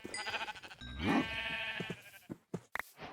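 A sheep bleats in the Minecraft video game, one drawn-out wavering bleat, close and clear, followed by a few short game clicks and thumps.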